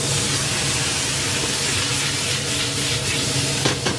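Shaoxing wine hitting a hot stir-fry wok with shrimp, a loud, steady broadband sizzle and steam hiss that fills the whole clip, no talk.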